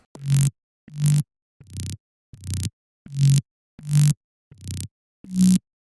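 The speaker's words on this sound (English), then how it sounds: "it sounds like this without any effects." A Serum synth bass patch with no effects, a sine wave FM'd by a sawtooth, plays as eight short, evenly spaced buzzy notes with silent gaps. The notes are clean and less harsh than a processed growl.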